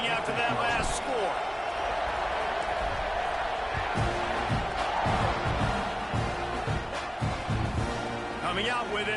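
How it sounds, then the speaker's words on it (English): College football crowd at an A&M vs. Auburn game, a loud continuous roar and buzz of many voices with occasional thumps and sharp bursts, while an announcer speaks over it. "this crowd is buzzing after that last score."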